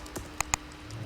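A few scattered keystrokes on a computer keyboard while naming a new folder for a website project, with two sharper clicks standing out close by in a quiet room.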